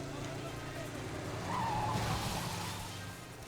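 A car drives in the video game 007 Legends, its engine drone running continuously, with a tire skid swelling up in the middle before easing off, while a voice talks over it.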